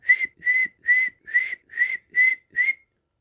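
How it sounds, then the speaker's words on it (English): Seven short, loud whistles in an even rhythm, each a steady clear tone with brief pauses between, then silence. "whistled loudly 7 times"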